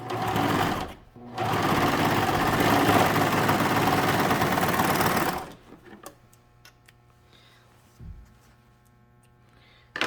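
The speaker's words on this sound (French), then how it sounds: "je vais coudre et je vais aller continuer là, sur à peu près 3 cm" A sewing machine stitching fabric for a pumpkin, running steadily and loudly for several seconds before stopping, followed by a few faint clicks and a soft thump.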